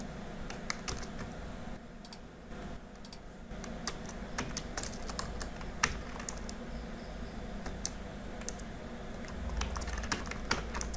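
Steady typing on a computer keyboard while writing Android app code, with rapid irregular key clicks close by and occasional heavier keystrokes, quiet and without talk.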